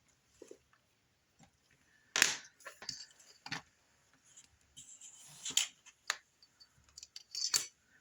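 Polymer clay being cut away while making a pendant: a few crisp, close snips and small clicks in short irregular bursts, with quiet gaps between them and no talking.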